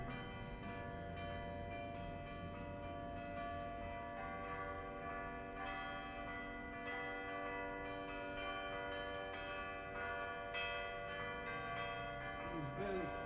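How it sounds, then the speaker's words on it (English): Church bells of Saint Teresa in Cottonera, Malta, ringing continuously with rich, overlapping sustained tones, loud and full throughout, with a faint voice near the end. "We will soon be hearing the bells of Saint Teresa."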